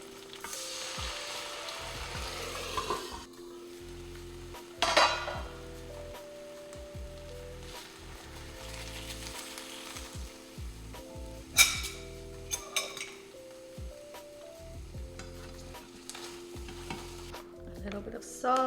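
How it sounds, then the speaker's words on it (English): Eggs and ham fry in a pan, sizzling steadily, then water splashes in to make steam; the hiss swells and a few clinks and scrapes of the pan and utensil break through. "Now I'm going to splash in a little bit of water to create steam and cover it."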